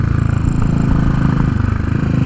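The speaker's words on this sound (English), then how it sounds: "Amazing sound out this engine." A 2017 Royal Enfield Continental GT motorcycle, the Euro 4 ABS model, runs its engine close by with a loud, steady, throbbing drone that pulses evenly throughout, with no voices.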